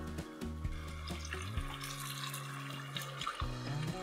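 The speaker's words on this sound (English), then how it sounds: "Now we add in water." Boiling water pours steadily into a pressure cooker holding cooking mutton, a continuous close splashing stream without talk.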